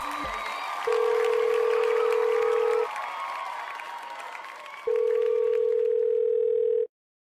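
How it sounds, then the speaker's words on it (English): A telephone dial tone sounds in two long steady bursts, loud and close, over a crowd applauding and cheering in the background before cutting off. "We dialed the number for Mark Smartslash"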